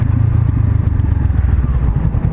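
A Honda CBR500R sport motorcycle being ridden, its engine a steady, close, low droning hum with rough, pulsing texture throughout and no clear talk.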